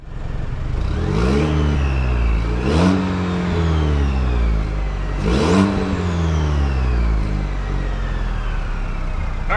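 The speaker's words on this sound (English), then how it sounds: "And here's what it sounds like at the exhaust tip." Chevrolet Silverado 2.7L high-output turbo engine revved in park, recorded up close at the exhaust tip: three loud, sharp rises in pitch over a constant throaty idle, each dropping back quickly.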